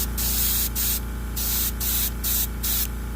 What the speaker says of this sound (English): Then I'm just going to spray the hell out of the damn thing.